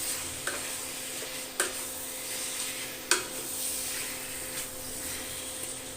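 Yogurt-marinated chicken sautés in a pan, a soft continuous sizzle broken by a few sharp clanks and scrapes as a spoon stirs it.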